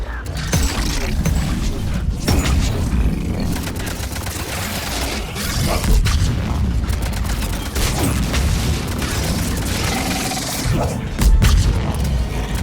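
Cluster grenades burst in Mass Effect 3 combat amid sustained gunfire, a dense, loud barrage of booms and rapid shots with heavy low rumble, peaking sharply near the end.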